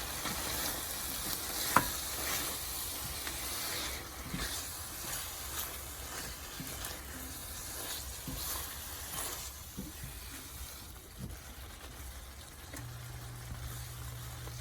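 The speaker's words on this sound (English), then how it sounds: "Make the temperature to low and now mix it well." Chicken drumstick korma with yogurt being stirred in a pan over low heat, a steady soft sizzle with scraping stir strokes throughout, fairly quiet and without voices.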